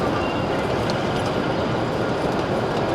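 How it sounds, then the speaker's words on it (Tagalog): A Shinkansen bullet train at a station in Kanazawa, Japan, gives a loud, steady rushing rumble that carries unbroken throughout, with faint rail noise and no clear voices. "Ito yung Shinkansen, bullet train."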